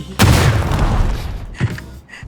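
A grenade explosion in PUBG: a loud, booming blast erupts suddenly, then a dense rumbling decay follows, with a smaller thud trailing afterward.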